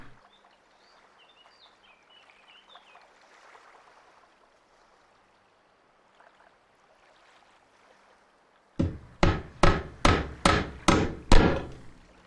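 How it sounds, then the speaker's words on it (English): Hammering while building a house in the video game Wurm Unlimited: faint ambience with birds, then about seven loud, evenly spaced hammer blows near the end. "you even get a bit of a hammering sound"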